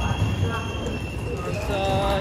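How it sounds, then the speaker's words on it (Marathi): A train rumbles and clatters on the tracks nearby as it arrives at a station, with a faint high squeal and distant voices in the background. "ट्रेन आले आमची आता"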